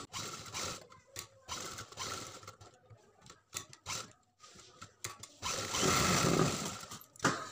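A sewing machine stitching along a back neck seam of a blouse, heard close and fairly quiet as short bursts of mechanical whirring and clicking separated by pauses, ending in a longer steady run.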